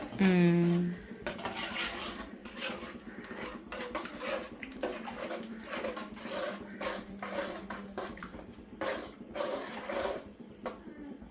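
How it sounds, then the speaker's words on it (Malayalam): A ladle scrapes and clinks steadily against a metal pot as coconut-based kalan curry is stirred, a busy run of close metallic knocks and scrapes with no talking. "നല്ലപോലെ ഇളക്കി കൊടുക്കണം"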